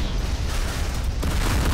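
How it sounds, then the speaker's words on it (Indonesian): A Yamato cannon fires in a video game, a heavy booming blast with a dense roaring rumble that stays loud throughout, swelling slightly again near the end. "Meriam Yamato tuh emang the best, teman-teman ya. Suara meriamnya itu loh."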